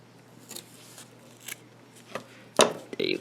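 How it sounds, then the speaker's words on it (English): Scissors snip through strands of yarn on a friendship bracelet: a few faint soft cuts, then two sharper, louder snips close by near the end, with no talk. "Then I'm going to cut these strands off."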